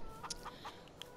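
A few short clucks from chickens in the farming video game Farming Simulator 22, soft and sparse over a quiet background, with no talk.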